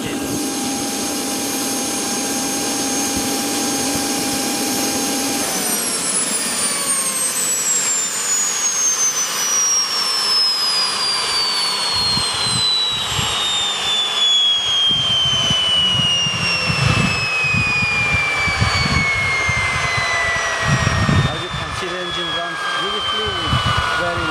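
A T-62 tank engine runs with a loud high whine, then is switched off after about five seconds, its pitch sliding steadily downward as it winds down over the next twenty seconds amid light clatter.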